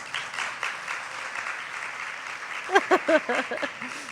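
Audience applause for a young man who has just graduated and is going on to study PPE at Durham, a steady broad clapping wash with a few voices breaking through near the end.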